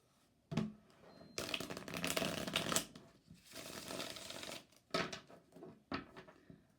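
A deck of oracle cards is shuffled close up in several quick riffling bursts with short pauses between them, crisp paper flutter and soft taps.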